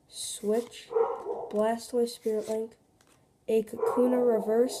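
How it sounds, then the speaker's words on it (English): A pet dog barks in the background, heard in short bursts behind a person speaking continuously nearby while naming trading cards. "Sorry if you can hear my dog in the background."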